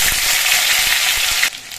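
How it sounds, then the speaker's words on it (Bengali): Half a spoon of ginger paste hits hot oil that already holds cumin and asafoetida, giving a loud, dense sizzle that drops off sharply near the end. "ভাজা হয়ে যাওয়ার পর এর মধ্যে হাফ চামচ আদা বাটার দিচ্ছি"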